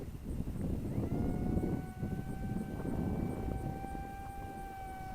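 A small ESKY Mini EYAS II 750mm brushless sub-250g FPV RC plane flies in gusty wind; its motor gives a steady, thin whine that holds over a constant rumble of wind noise.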